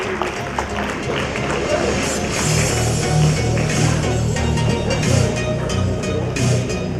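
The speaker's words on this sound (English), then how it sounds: "Audience, continue to clap, cheer up," Audience at an International Women's Day awards ceremony clapping and cheering, a dense, continuous wash of applause with a muffled voice talking over it from a loudspeaker.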